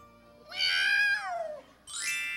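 A cat meows loudly and close by, one long falling meow followed by a shorter higher cry, with a quiet background and no talking.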